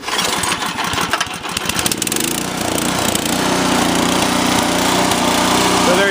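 A Cub Cadet RT65 rototiller engine starts warm with a few pulsing cranks, then catches and settles into a loud, steady, even running drone close by.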